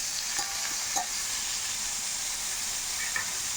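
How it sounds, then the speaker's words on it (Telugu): Tomatoes cook under a lid in a pan with a steady, soft sizzling hiss and a few faint pops and ticks, heard at low level with no talk. "టమాటాలు మగ్గటానికి 3 నిమిషాలు మూత పెట్టుకొని మగ్గనిద్దామండి టమాటాలని."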